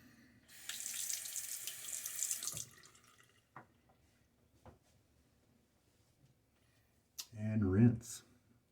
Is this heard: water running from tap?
yes